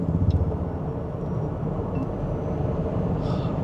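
Mahindra BE 6 electric car accelerating hard, heard from inside as a steady, loud road and motor rumble with no clear gear changes throughout.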